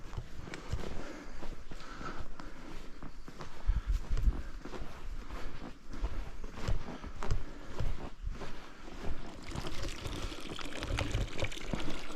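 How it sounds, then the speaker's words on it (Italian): Water runs steadily from a spring beside a path near the Salton waterfall in San Donato di Lamon, a continuous splashing flow heard close by with occasional footsteps over it. "C'è anche una fonte d'acqua."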